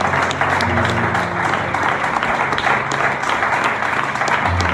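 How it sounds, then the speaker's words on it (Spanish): A church congregation applauds in a loud, dense, sustained burst of clapping that lasts several seconds, with a low hum of voices and music underneath. "Dale un aplauso a Jesucristo, al Rey de Reyes y Señor de Señores."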